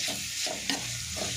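Vegetables tossed with garam masala and chili powder stir-fry in a pan for restaurant-style veg fried rice: a brief, close, steady sizzle with a few scraping stirs and no speech.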